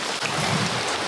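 Rain falls steadily in the Philippines, a close, even hiss of drops with no break across the brief moment.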